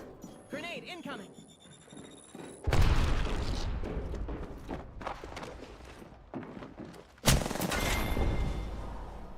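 A grenade explosion and gunfire from a video game: a loud sudden boom followed by crackling shots and rumble, then a second sharp blast, with game sounds and chatter before it.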